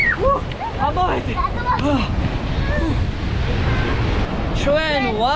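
Sea waves and wind on the beach at Poti make a constant broadband rumble and buffet against the microphone, while people talk and exclaim excitedly over the noise.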